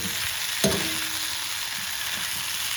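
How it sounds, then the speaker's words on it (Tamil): Taro (colocasia) slices roast in oil over a low stove flame, giving a steady close sizzle and crackle throughout, with a single sharp clink of a utensil early on and no voices. "அப்படியே அடுப்பை குறைச்சி வச்சு அப்படியே வச்சோன்னா அப்படியே ரோஸ்ட் ஆகும்"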